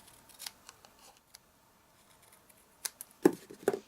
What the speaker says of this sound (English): Trim it off by eye.